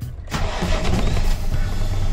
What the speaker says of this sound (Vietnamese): bây giờ mình nổ máy lên